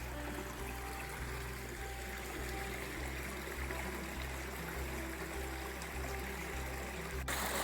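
Water runs steadily down a small rocky waterfall in Karijini gorge country, a constant soft rushing trickle heard from nearby with no voices.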